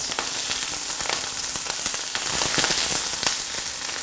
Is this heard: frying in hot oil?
yes